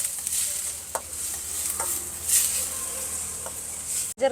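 Onions sautéing in a pan on a stove inside a lorry give a steady close sizzle with a few soft stirring scrapes, then end in a brief thump.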